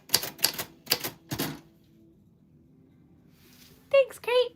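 Four quick bursts of manual typewriter keystrokes at the start, then quiet room tone, followed by two short voiced sounds near the end.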